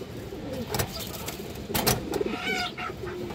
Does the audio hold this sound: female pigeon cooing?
yes